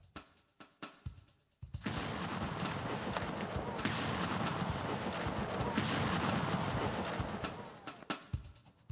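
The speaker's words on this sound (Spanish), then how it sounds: "El primer disparo impacta en la esquina inferior derecha, penetrando medio metro en la pared." A few faint thumps, then a cannonball strikes a wall at the Alamo: a sudden, sustained roar of gunfire-like blasting and rumble lasting several seconds before fading into scattered cracks.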